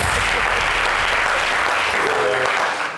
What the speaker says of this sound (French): Et on applaudit pour elle.